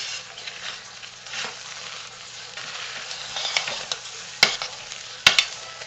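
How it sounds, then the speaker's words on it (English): Thick cooked lavender vegan soap batter stirred in a turned-off crock pot, a steady soft scraping and churning with a few sharper knocks of the utensil against the pot near the end, close and alone. "now I'm going to give it a stir"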